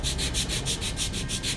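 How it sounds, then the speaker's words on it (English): Wood pieces held tight and rubbed back and forth over a sanding block with 220-grit sandpaper, a close, steady rasping in regular strokes of roughly one per 0.15 seconds, alone without talk. "hold them tight, and then just run them over a sanding block."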